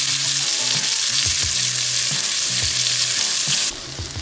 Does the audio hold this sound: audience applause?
no